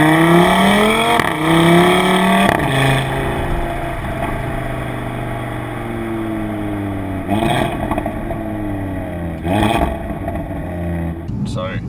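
Audi RS3 engine revving loudly with rising and falling pitch sweeps, sharp blips of throttle near the end, someone talking over it throughout.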